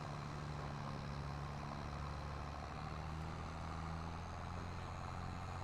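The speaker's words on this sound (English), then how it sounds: "Come on, tractor. You can get up the hill" In a farming video game, a tractor engine drones heavily and steadily as it hauls a full silage trailer uphill. The low rumble is constant and continuous, with no talk over it.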